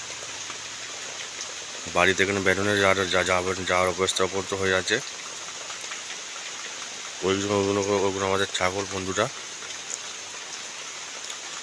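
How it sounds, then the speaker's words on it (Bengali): Heavy rain falls steadily on a rural home yard where goats are kept, a continuous wash of drops on surfaces running throughout, with someone talking over it in two stretches. "এখানে প্রচণ্ড বৃষ্টি পড়ছে বন্ধুরা।"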